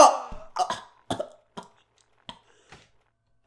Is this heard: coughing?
yes